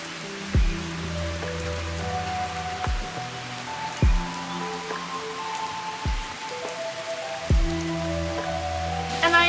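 Steady rain patters on surfaces outdoors on a wet day in St. Catharines, a constant close hiss broken by a few low thumps and faint tonal hum in the background.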